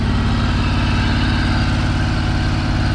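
A small 32-inch riding lawn mower on a commercial property runs with a steady, loud, close engine drone and a rough, pulsing low rumble, with no talk.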